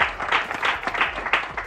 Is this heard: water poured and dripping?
no